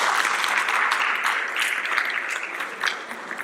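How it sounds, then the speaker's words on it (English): Full, sustained applause from an audience at a township candidate roundtable, clapping for sign language interpreters; a dense, even patter that continues throughout. "if we could give them a round of applause,"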